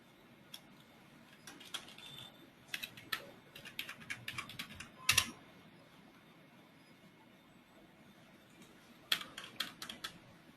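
Keys tapped on a computer keyboard while logging in to Oracle Applications R12, quiet and close, in irregular bursts of clicks with brief pauses and a final flurry near the end.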